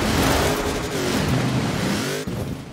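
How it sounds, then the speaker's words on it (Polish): Mercedes-Benz G63 6x6 engine in Forza Horizon 4, driven on a slippery hillside, revving steadily and loudly with pitch rising and falling, close and continuous with no voices. "Samochód już powoli łapie trakcję."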